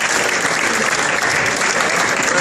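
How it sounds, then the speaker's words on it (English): Continuous, loud applause from guests at the Nelson, Mallet, Foster family reunion dinner, a steady wash of clapping hands honouring the married couples, with no voices standing out. "applause."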